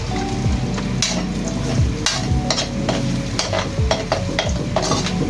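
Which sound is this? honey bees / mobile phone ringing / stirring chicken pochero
stirring chicken pochero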